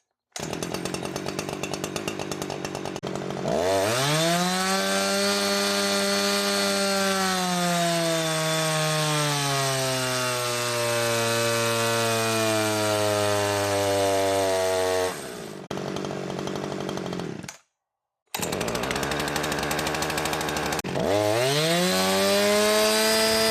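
A Husqvarna chainsaw engine roars loud and close, its pitch rising and falling through sustained revving, cutting out briefly near the end before restarting at full throttle.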